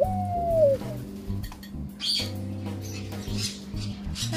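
A pet bird coos softly indoors in a short, repeated pattern of low warbling notes, with faint household rustling and a brief higher chirp.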